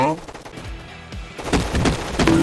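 Gunfire in the Roblox shooter Gunfight Arena, loud and continuous, with rapid overlapping shots and bursts that grow denser and heavier toward the end.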